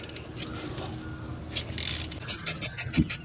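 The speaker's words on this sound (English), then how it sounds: "So now we can loosen and remove these two slide pin bolts." A ratchet wrench clicks while loosening the 14 mm slide pin bolts on a Toyota Corolla front brake caliper, a close series of quick ratcheting bursts following some quieter handling noise.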